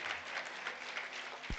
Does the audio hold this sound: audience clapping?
yes